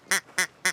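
Three short, bright nasal quacks in an even rhythm, close and clear, sounding like a duck call or a person mimicking ducks, with no other sound between them.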